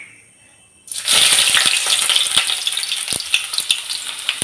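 Onions hit hot mustard oil in a nonstick wok and break into a loud, bright sizzle after a brief quiet start, crackling steadily with scattered pops and spatters, close and alone.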